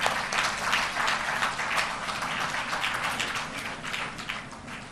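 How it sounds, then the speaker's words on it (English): Dense audience applause at an international conference on holistic health, a steady crowd of clapping that fills the space evenly and swells slightly at the start, with no speech over it. "Please give a huge round of applause to such an eminent speaker."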